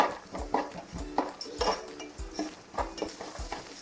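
A spoon repeatedly scrapes and knocks against a pan while potatoes and beans are stirred, with rhythmic clinks roughly every half second over a faint sizzle, close and moderately quiet.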